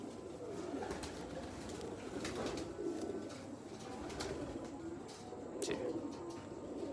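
Salara Teddy pigeons coo repeatedly in a low, rolling murmur, several birds overlapping at close range with a few brighter chirps above a steady background hum.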